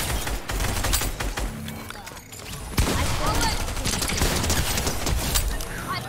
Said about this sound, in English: I was shooting